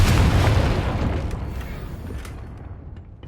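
A loud, deep boom from a Confringo fire spell in Hogwarts Legacy, hitting hard at the start and rolling off into a long rumbling decay with faint crackles.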